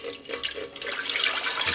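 360 milliliters of water poured into a Zojirushi breadmaker's baking pan for einkorn sourdough bread, a steady close splashing stream running the whole time without a break.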